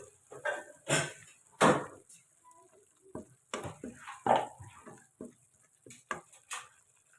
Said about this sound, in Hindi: इसको मैं अच्छे तरीके से फ्राई कर लूँगी जब तक इसकी स्मेल ख़त्म ना हो जाए।